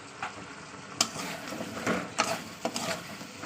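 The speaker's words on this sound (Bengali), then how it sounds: "আলুটা দিয়ে আমি ভালো করে এই মশলার সঙ্গে কষিয়ে নেবো" Potatoes and ridge gourd being sautéed with spices in a pan, with a steady quiet sizzle broken by several sharp scraping and stirring strokes at irregular intervals, no talk.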